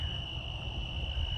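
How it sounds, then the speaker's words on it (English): Crickets chirp steadily at a campsite at night, a thin continuous high trill holding at one pitch over a low rumbling background, fairly quiet and alone with no voices. "Those crickets are out."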